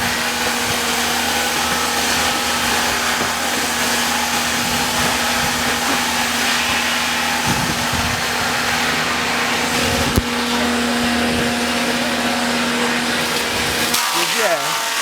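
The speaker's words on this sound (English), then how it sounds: "That's the planing machine right there." A wood planing machine runs steadily at a timber processing yard in Douala, Cameroon, a loud continuous mechanical drone with a sustained hum and broadband noise that cuts off near the end.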